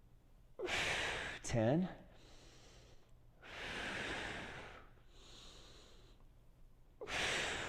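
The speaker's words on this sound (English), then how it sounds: "Making sure to breathe." Audible breaths, inhales and exhales, taken during a core workout exercise, with a sharp gasp-like breath near the start and longer airy exhalations alternating with a counting voice.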